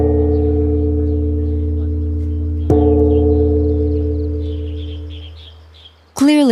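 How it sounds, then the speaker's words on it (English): Ancient Chinese bronze bell set with melody on the small upper bells and accompaniment on large bells below, sounding as long sustained resonant tones with a fresh strike midway, decaying slowly before a sharp final sweep. "The melody is played on the top bells, the accompaniment on the giant bells below."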